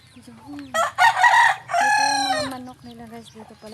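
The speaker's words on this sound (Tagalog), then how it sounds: "Ito yung mga manok nila" Chickens at a rural home cluck and a rooster crows loudly nearby, with overlapping calls and a harmonic, drawn-out crow in the middle, no talk over them.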